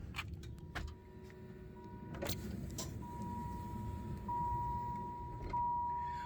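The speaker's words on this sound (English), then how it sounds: "So all the power windows will be working." Power windows on a 1996 Marblehead Grey Cadillac Fleetwood Brougham whir as their motors run in a few separate stretches. The sound is quiet and close, with a couple of faint clicks and knocks and a low background hum.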